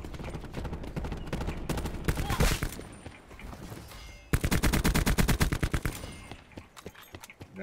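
First-person shooter gunfire: loud bursts of rapid automatic fire in quick succession, a short pause, then another long dense burst, with no voices.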